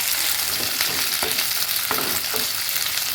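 Chillies fry in hot oil with a steady, loud, dense sizzle that never lets up, while a few soft stirring knocks sound through it.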